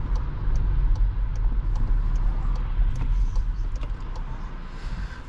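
VW Polo 1.2 TSI 90 hp with DSG gearbox pulling away from a dip, with a steady low engine and road rumble, close and continuous, fading slightly toward the end.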